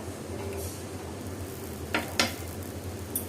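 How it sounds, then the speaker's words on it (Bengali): Garlic fries in a little mustard oil in a pan on the stove, a soft steady sizzle with a couple of sharp utensil scrapes and clinks near the end. "এখন রসুনটাও আমি আগের মতো আবার একটু চুলা ধরিয়ে রসুনটাও ভেজে নিব এভাবে"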